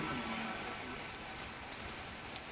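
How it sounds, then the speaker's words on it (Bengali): A steady hiss of heavy rain pours down in Uttara Sector 18, Dhaka, with faint, continuous broadband noise and no distinct drops standing out. "খুব বেশি বৃষ্টি পড়ছে।"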